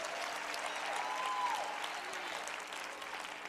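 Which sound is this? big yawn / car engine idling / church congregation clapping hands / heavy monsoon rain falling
church congregation clapping hands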